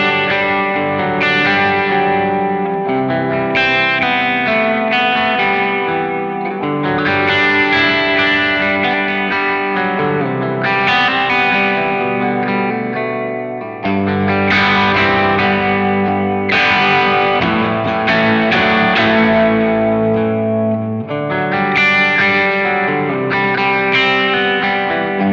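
Distorted electric guitar played through a Kemper holding a Marshall amp profile, with added reverb: sustained chords and ringing lead lines fill a loud, continuous passage with no talking.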